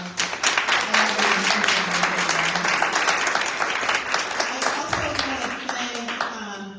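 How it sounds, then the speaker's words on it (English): Applause at an arts education town hall, a sustained crowd of hands clapping loudly and evenly, a single voice rising over it near the end before the clapping thins out. "So can we just give one more round of applause?"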